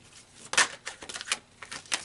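Tarot cards are shuffled up close in a run of quick papery riffles and taps, several bursts over about two seconds, with no talking.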